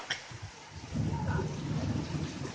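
Thunder rumbles during a strong thunderstorm, a low rolling boom swelling after the first second and holding steady over a bed of rain-like hiss, moderately loud and with no voices.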